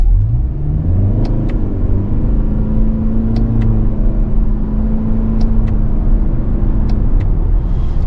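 A 2025 Toyota Camry SE hybrid in Sport mode accelerates with a steady, loud engine drone and a rising tone that holds and then drops. Brief high ticks recur over the top, and no one speaks.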